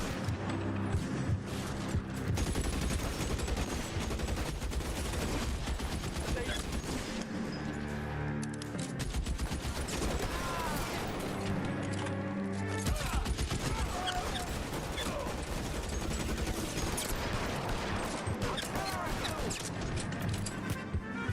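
Gunfire in the video game L.A. Noire: loud, dense bursts of shots and crashing impacts fill the scene almost continuously, with a short lull midway before the shooting picks up again.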